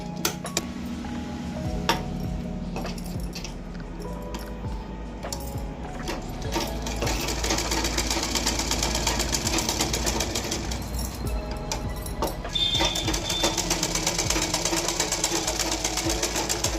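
Sewing machine stitching a blouse seam, a steady mechanical whir that runs through the clip and grows louder in the second half, with brief clicks and handling sounds.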